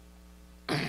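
A single short, sharp throat clearing from a tickle in the throat, close and sudden after quiet room tone.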